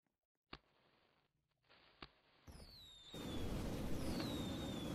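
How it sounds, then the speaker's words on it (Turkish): Fireworks set off in the Roblox game Super Hero Tycoon: a few sharp pops, then whistling launch streaks over a growing crackling roar, fairly quiet overall. "Hatta havai fişek falan atalım."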